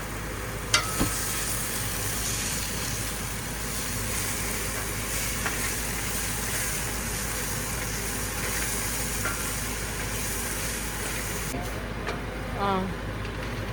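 Ginger garlic paste fries in a pan for a fish curry, giving a steady broad sizzle that runs unbroken beneath a continuous low hum, with a sharp tap near the start and a few faint clinks near the end.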